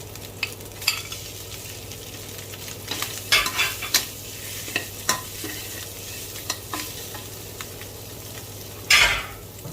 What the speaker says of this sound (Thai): ผัดได้กลิ่นหอมแล้วหน้าตาเป็นแบบนี้นะคะ เราก็ใส่กุ้งลงไปเลยค่ะ